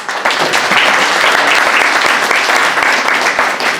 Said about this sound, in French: On peut l'applaudir de sa fidélité.